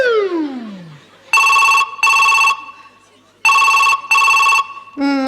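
A telephone rings in two pairs of bright electronic trills with pauses between, preceded by a descending musical tone and followed by a brief voice at the end.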